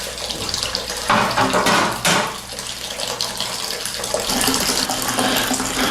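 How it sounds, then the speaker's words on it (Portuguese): Water pours steadily and loudly into a home beer-brewing pot, a continuous splashing rush with slight surges, no talking. "Vamos adicionar mais 5 litros de água aqui para completar."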